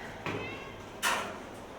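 Two short cat meows ring out in an animal shelter's stray hold building, the second louder and closer, with quiet room noise between them.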